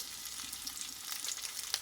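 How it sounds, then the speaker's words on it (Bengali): Large fish pieces frying crisp in a little oil in a pan, with a continuous close sizzle full of fine crackling pops and no voices. "এই মাছটা কিন্তু আমি একটু কড়া করে ভেজে নেব"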